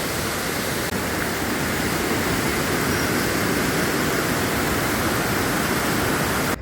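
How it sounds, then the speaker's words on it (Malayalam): The Ozhuvankuthu waterfall in Koothupally, Idukki district, roars in a dense, constant rush of falling water, loud and unbroken throughout with no voices. "കൂത്തുപള്ളിയിലെ ഒഴുവൻകുത്ത് വെള്ളച്ചാട്ടം"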